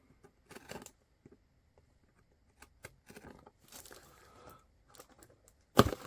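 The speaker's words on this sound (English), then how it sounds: "So I got the pack from the post office and now I will open it. Let's do a cut right here." A postal package holding writing instruments is cut open, giving scattered quiet scrapes, crinkles and tearing rustles of packaging with pauses between them, ending in a sharp louder rip.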